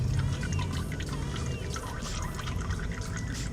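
Motor oil from the drain of a Dodge Challenger Scat Pack with a 6.4L 392 Hemi, dripping and trickling steadily into a catch pan in a garage, close and continuous.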